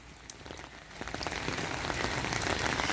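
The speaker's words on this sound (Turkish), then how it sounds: "Yağmur yağmur üstüne." Steady rain patters on a surface, a dense hiss of drops that grows slightly louder and heavier over a few seconds.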